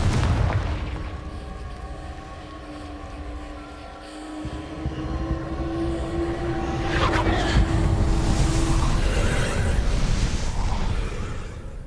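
A Confringo blasting spell explodes in Hogwarts Legacy with a loud low boom and rumbling debris, building to a sustained roar in the second half under steady game ambience and music.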